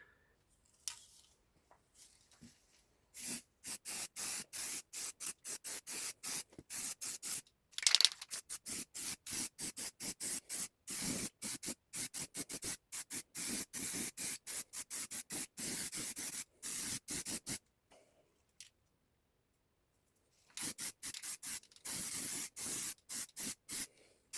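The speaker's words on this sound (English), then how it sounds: "I'm going to give it another coat of the primer" A spray can lays primer onto a rusty Citroen Xsara Picasso spare wheel in rapid, sharp hissing pulses, loud and close. The rhythm runs almost unbroken, then stops briefly and resumes.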